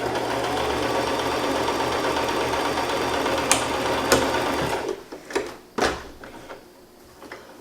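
A sewing machine stitches a seam in fiddly satin scrunchie fabric with a steady, close mechanical whirr for about five seconds. It then stops, leaving scattered clicks and handling taps.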